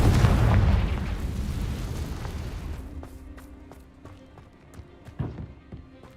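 Confringo spell explosion in a magic video game: a loud, close burst that fades into a long rumbling decay, followed by sparse faint taps and clicks.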